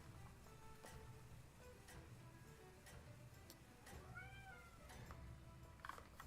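A pet cat named Max meows a couple of times, soft and somewhat distant, over a steady background of game sounds and low noise.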